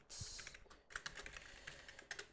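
An ID number being typed on a computer keyboard in a quick, close run of soft clicking keystrokes, faint and uneven, without any talking.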